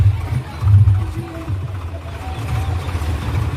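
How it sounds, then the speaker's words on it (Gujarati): A water tanker tractor passing close by on a rural road, its low diesel engine rumbling loudly and rising then settling, with a faint tonal whine on top. "આપણા બાજુમાં ટ્રેક્ટર આવી ગયું પાણીનું"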